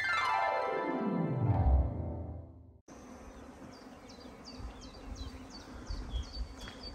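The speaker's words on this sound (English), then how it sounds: "Just the birds and the bees. Literally the birds and the bees." Bees buzz steadily near a beehive outdoors on the Via Francigena walk to Radicofani, Italy, with birds chirping repeatedly in the background; a separate descending tone precedes the scene.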